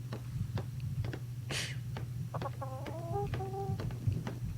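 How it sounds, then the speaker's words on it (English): Chickens in the Atlas video game cluck in a quick series of short, pitched calls over a steady low hum of game ambience, moderately close and fairly quiet. "You have a couple chickens up here."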